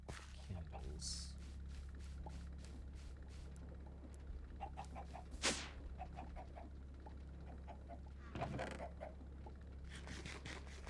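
A chicken in modded Minecraft (StoneBlock 3) gives short, repeated clucks, quiet and spaced out over a low steady hum.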